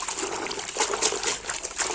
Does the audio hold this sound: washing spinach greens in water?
yes